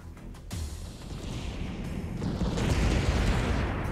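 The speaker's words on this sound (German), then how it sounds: "Einfach mal mit Kanonenkugeln auf Skelette schießen." Cannonball shots pound skeleton enemies in Serious Sam 4, a sudden loud blast followed by a building, rumbling roar of explosions and battle noise that swells toward the end.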